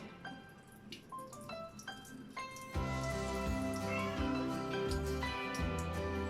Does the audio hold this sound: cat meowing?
yes